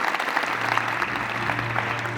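An audience at a gurukul event claps for a swami, producing dense, steady applause throughout, moderately loud and without talk.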